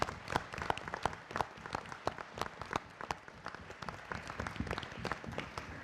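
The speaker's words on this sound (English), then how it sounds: "so maybe one more round of applause for them." Audience applause for award winners at a school board meeting, a fairly quiet but continuous patter of many hands clapping, with no talk over it.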